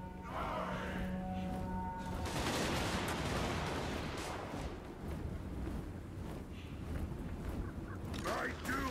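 Dwarf gunfire rattles through a Total War: Warhammer battle as a dense, continuous barrage of overlapping shots and clatter, loud and sustained, with a voice speaking over the din near the start.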